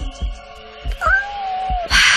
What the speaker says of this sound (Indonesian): terdengar seperti suara kucing